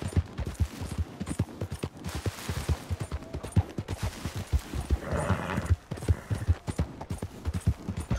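A horse's hooves clip-clop in a video game, a steady rapid galloping rhythm throughout with a few sharper thuds, fairly close and with no talking.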